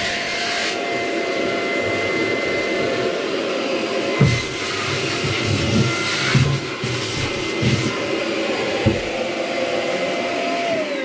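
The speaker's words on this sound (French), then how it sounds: "On va aller passer un coup d'aspirateur." A vacuum cleaner runs continuously while cleaning out a water tank, a steady loud whoosh with occasional bumps and knocks as the nozzle moves around.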